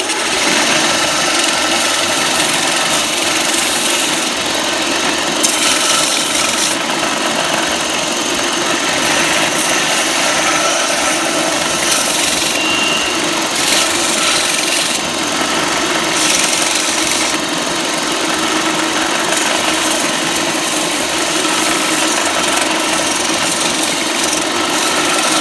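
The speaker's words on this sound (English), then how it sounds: "I'm going to put it on my belt sander just to smooth them out" A belt sander runs continuously and steadily while smoothing a wooden train whistle, a close, even whirring hum with slight fluctuations as the wood is pressed against the belt.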